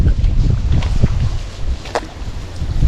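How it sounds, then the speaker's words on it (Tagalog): Strong wind buffets the microphone in heavy, low rumbling gusts, loud and close, with no voices. "Lakas pa ng hangin."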